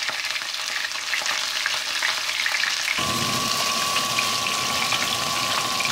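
Crucian carp coated in semolina sizzle loudly in a hot pan, a dense crackling hiss that grows fuller partway through, joined by a steady high whine.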